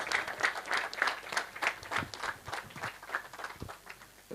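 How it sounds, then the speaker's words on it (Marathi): Applause from the crowd at a Rotaract club cricket league prize event: scattered, uneven clapping from a modest group, fairly close but soft, rising and falling in loose bursts. "त्यांच्यासाठी पण एक जोरदार टाळ्या होऊन जाते"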